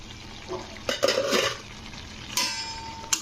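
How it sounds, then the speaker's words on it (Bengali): Metal lid lifted off a pot of boiling mangoes in a home kitchen, a few short clanks and scrapes with a ringing clink, over soft background bubbling, no voices. "এবারে আমি ঢাকাটা খুলবো আমটা কতটা সেদ্ধ হলো"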